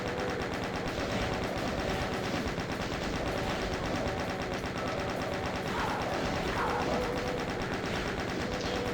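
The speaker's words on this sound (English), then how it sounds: "Maybe chain gun for the balance." Chain gun firing fully automatic in DOOM, a rapid continuous rattle of shots running the whole stretch at even pace, steady and fairly quiet, with brief higher-pitched sounds from the game near the end.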